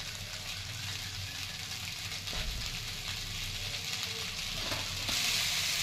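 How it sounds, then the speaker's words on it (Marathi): Cooked leftover rice sizzles steadily while being stir-fried in a pan, a constant close hiss with faint stirring scrapes, slightly louder toward the end. "तर भात आता छान परतलेला आहे"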